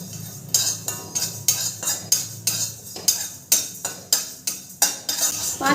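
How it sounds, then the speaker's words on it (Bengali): Panch phoron dry-roasting in a wok, stirred with a metal utensil: a rapid, regular series of sharp scrapes and clinks against the pan, close and clear, with a faint low hum beneath. "5 ফোড়নটা আমি একটু নেড়ে চেড়ে ভেজে নেব"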